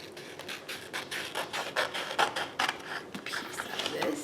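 Scissors snip through a sheet of Pink Pirouette cardstock for a Stampin' Up! baby shower invitation, giving a close, steady run of crisp cuts and rustles over about four seconds.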